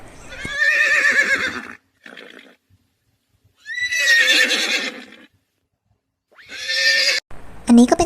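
Three loud horse whinnies, each a shrill quavering call of about a second or more, separated by pauses, with a brief thud at the end.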